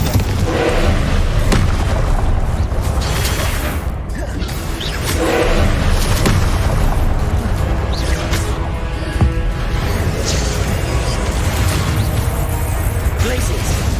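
Confringo fire spell cast in the Hogwarts Legacy video game, booming explosive blasts over dense continuous combat noise, with a voice calling out spell names throughout.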